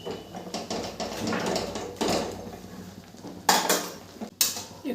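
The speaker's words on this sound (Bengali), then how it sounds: "এই শাকটাকে আমি কড়াইয়ের মধ্যেই ঘেটে নেব।" Mustard greens being mashed in a kadai (wok) over low flame with a metal spatula and a dal masher, irregular scraping, clanking and thudding strokes against the pan, close and fairly loud.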